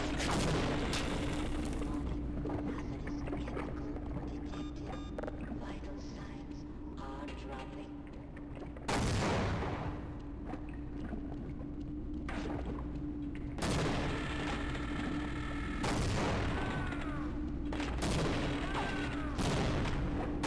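Rocket launcher explosions in Half-Life: repeated loud booming blasts with dense gunfire and rumbling, the largest bursts near the middle and second half, while a player talks over the chaotic firefight throughout.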